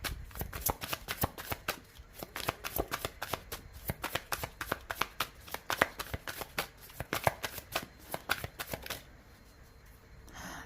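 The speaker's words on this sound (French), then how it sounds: "on laisse sauter la carte pour les poissons" Tarot cards riffled and shuffled by hand at a table, a fast run of crisp papery flicks and snaps that stops near the end, leaving quiet room tone.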